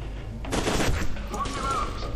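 Rapid bursts of gunfire from the shooter video game F.E.A.R. 2: Project Origin crackle densely and loudly for about two seconds, overlapping shots blending into a sustained barrage with no talk.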